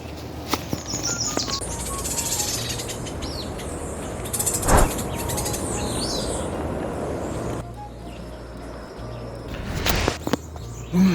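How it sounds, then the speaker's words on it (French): An unidentified tropical forest bird in the dry forest of Guadeloupe gives a few high, strange chirps and calls against a steady forest ambience, with brief rustles and a thump or two nearby. "j'ai aperçu l'oiseau qui avait un drôle de chant"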